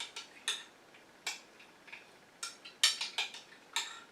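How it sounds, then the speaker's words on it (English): A utensil stirs a homemade sunscreen mixture to break up clumps, giving quiet, irregular clinks and taps against a container in a quiet room, with no talk. "You really want to stir this really well and try to make sure you dissolve as much as you can."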